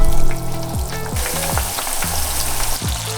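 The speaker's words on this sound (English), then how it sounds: "Sizzle the oil over medium-low heat." Chilli oil aromatics of spices, garlic, ginger and shallots sizzle in oil over medium-low heat, a steady close frying crackle with repeated soft stirring scrapes.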